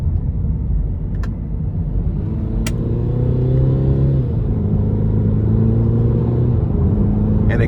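A 2024 Cadillac CT4 with a 2.0-liter turbo four pulls hard in sport mode, a steady loud engine drone rising in pitch, dropping at a quick gearshift and climbing again, heard from inside the cabin.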